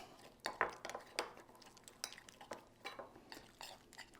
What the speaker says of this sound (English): So mix that in there, and then just stir it up